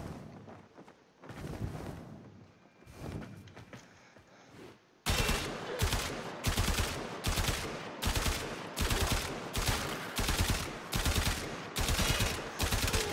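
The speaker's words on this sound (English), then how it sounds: "I'm shooting this guy in the face" Rapid, steady bursts of Breton Prime gunfire in Warframe, loud and close; a few scattered shots open before a dense, unbroken volley takes over for the rest.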